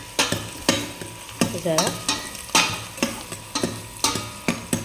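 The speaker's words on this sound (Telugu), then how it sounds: "మీరు చూసారు ఆనియన్స్ అయితే ఎలా బాగా మగ్గుతున్నాయో" Onions sauté and sizzle in a pan as a utensil stirs them in a steady run of sharp scraping strokes, close up, with a brief spoken word partway through.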